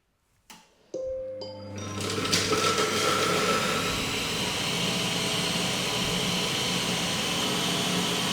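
A click, then a Lidl Monsieur Cuisine Smart food processor whirs up to a loud, steady high-speed drone at speed 7 or 8 while chopping onion, continuing without pause.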